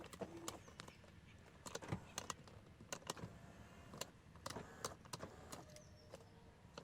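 A power seat motor in a 1997 Cadillac Seville SLS whirs in short bursts inside the quiet cabin, broken up by clicks and small knocks from the controls and the seat moving.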